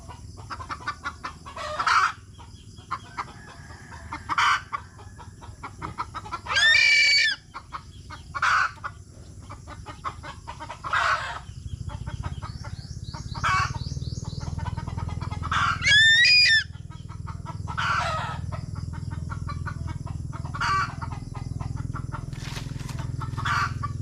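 Chickens cluck and a rooster crows repeatedly in a farmyard while searching for a chick, with sharp calls scattered over a steady low background.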